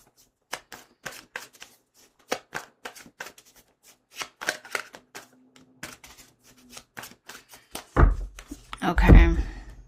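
Cards are riffled and flicked in rapid uneven bursts, ending in a louder rustling shuffle, close by with no talking.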